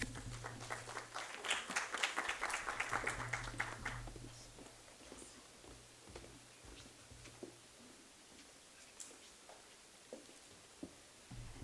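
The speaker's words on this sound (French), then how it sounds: "j'invite M. Ali et Hamza à nous rejoindre sous vos applaudissements" At a university workshop on Morocco's new development model, a modest round of applause rises for a few seconds over a low hum, then thins into scattered claps and faint footsteps as people walk up.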